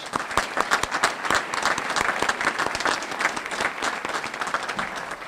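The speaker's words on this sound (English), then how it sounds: "Let's give them another round of applause" Sustained applause from an audience at a volunteer fire and rescue association awards ceremony, honoring fire prevention ambassadors; many hands clap densely and steadily at close range with no talking.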